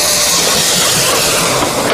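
A toy train on a looping track gives off a continuous steady hiss, loud and close, with a faint mechanical rattle underneath and no talking.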